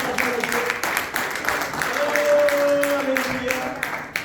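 Church congregation applauding during a sermon, steady clapping with crowd noise rising and falling, mixed with voices and a sustained tone mid-clip.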